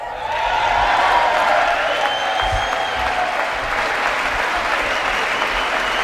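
Loud, sustained applause from a large standing audience at the State of the Union address, a dense wash of clapping with some cheering and crowd murmur that holds steady for about six seconds.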